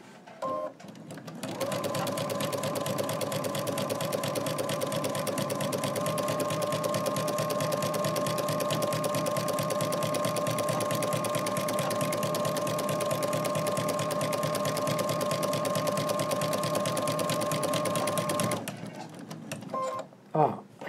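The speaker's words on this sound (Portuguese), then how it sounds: "Ó, eu estou costurando aqui, ó, na vala." Stitching along the groove of an octagonal souplast placemat gives a steady, continuous mechanical whir that runs unbroken for most of the stretch before stopping.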